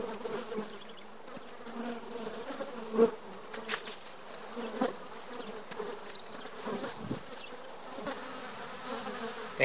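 Honeybees buzzing around beehives in a grassy yard, a continuous close, soft hum from many insects with occasional louder passes near the microphone.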